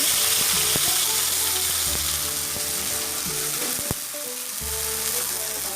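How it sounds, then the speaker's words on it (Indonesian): Spice paste for rendang sizzles and fries in hot oil, a loud continuous crackle with occasional scraping and stirring clicks from a utensil in the pan. "Bila minyak panas, masukkan bumbu."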